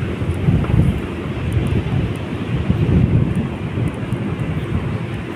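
A breeze blows along the Pasig Esplanade riverside walkway, buffeting the microphone with a steady low rumbling wind noise that swells and eases in soft gusts throughout.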